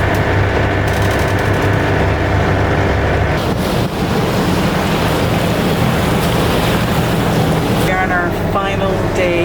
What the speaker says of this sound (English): It's good to hear the motor running, actually.